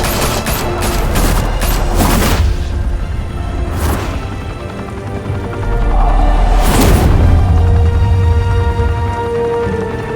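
Gunfire in Batman: The Telltale Series, a loud volley of rapid shots cracking close by, then scattered heavier bangs echoing through a rumbling, chaotic soundscape.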